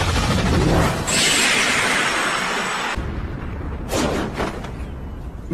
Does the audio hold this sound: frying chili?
no